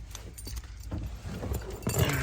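Car keys for a Land Rover Discovery 2 jangle close by and fairly loudly throughout, in a busy, rattling run that grows slightly stronger near the end.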